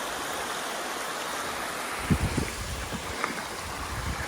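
A creek flows through a coastal campground on its way to the ocean, giving a steady, moderately loud rush of running water with irregular low splashes and gurgles in the second half.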